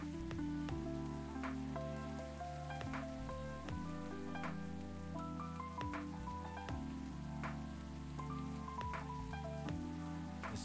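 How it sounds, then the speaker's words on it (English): Steady pouring rain in the video game Coffee Talk, a constant soft hiss under calm, mellow background music with sustained tones. "Basically, it's been pouring. I like rain."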